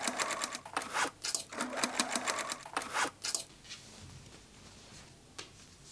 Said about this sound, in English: Stitch the top and side seams of the pink lining on the sewing machine.